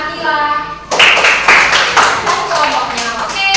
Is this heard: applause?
yes